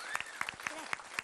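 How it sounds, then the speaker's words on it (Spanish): A studio audience claps and cheers for La Chilindrina at a children's variety show, a short, dense burst of sharp hand claps with a voice calling out over it. "Un fuerte aplauso para la Chilindrina."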